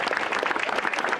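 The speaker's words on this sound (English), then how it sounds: "I think he deserves a round of applause for that." Audience applauding the mayor of Island Park at a ribbon-cutting event, a dense, steady patter of many hands clapping at close range, filling the whole moment without speech.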